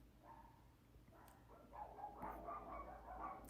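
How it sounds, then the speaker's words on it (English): Dogs bark outdoors in the distance, faint and muffled, a cluster of yips and barks building in the second half over low background hum. "Sorry about the dogs barking."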